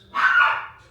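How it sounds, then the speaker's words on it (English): A single short dog bark, loud and fairly close, standing alone against a quiet background. "Dogs are barking."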